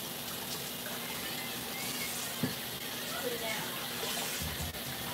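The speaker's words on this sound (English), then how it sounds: "Let me rinse all this ugly stuff off these potatoes." Potatoes are rinsed under a running kitchen tap, giving a steady, close hiss of flowing water with a few small knocks.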